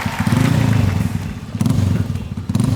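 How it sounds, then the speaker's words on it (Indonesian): A motorcycle engine rumbles close by at a birthday party, loud and steady with low throbbing, broken by a brief dip and some clattering thuds. "Ada suara motor?"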